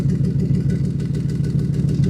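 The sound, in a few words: car engine idling after installing exhaust resonators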